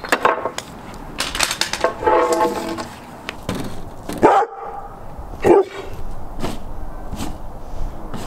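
A dog barks in a few sharp, close outbursts scattered across the stretch, amid rustling and clattering handling noises from tent building outdoors.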